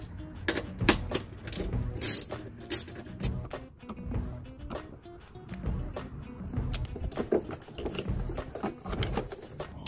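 Ratchet wrench clicking while removing 10mm headlight bolts on a Mazda MX-3, repeated rapid mechanical ratcheting bursts up close, with brief sharp clicks and metallic handling noises between strokes.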